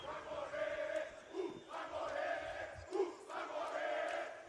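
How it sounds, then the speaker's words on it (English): Danish fans in a corner of an esports arena cheer loudly during a Counter-Strike major match, a dense roaring crowd swelling in waves with no talk over it. "That little Danish corner is being quite loud inside of the arena right now, trying to cheer them back on."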